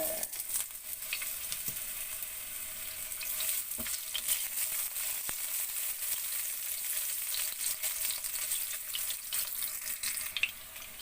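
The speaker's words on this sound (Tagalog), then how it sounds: "So, ipapry na natin ang ginger." Ginger fries in oil with a soft, steady sizzle, with occasional sharp pops and clicks of a utensil stirring it throughout.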